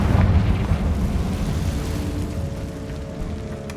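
A Confringo blasting curse goes off in the Hogwarts Legacy video game, a loud low booming explosion that rumbles and slowly fades over several seconds.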